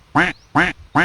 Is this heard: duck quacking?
yes